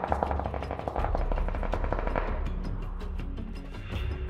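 An AK rifle fires in a long, rapid spray in PUBG on the Sanhok map, with loud close shots in a dense automatic rhythm, alone with no talk.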